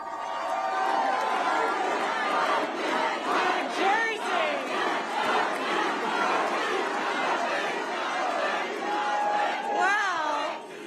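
Crowd cheering at an election victory rally for Mikey Sherrill, newly elected governor of New Jersey, a loud continuous roar of many voices with whoops and shouts rising and falling, chatter woven through it.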